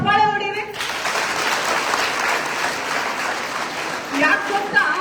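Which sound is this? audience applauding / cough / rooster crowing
audience applauding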